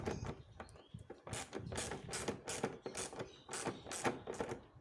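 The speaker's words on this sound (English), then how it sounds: "And this one, my socket wrench is always jumping." A socket wrench ratchets in quick repeated clicking bursts while tightening a tail light on an Alfa Romeo 939 Spider or Brera, faint and close, with no voices.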